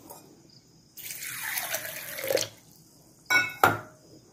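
Sprouted moong beans are rinsed under a running kitchen tap: a steady splash of water for about a second and a half, then two short, close gushes of pouring water.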